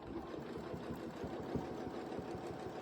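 A sewing machine runs steadily, stitching a seam on a Breath of Spring quilt, its needle producing a fast, even mechanical chatter that stays close and continuous throughout with no one talking.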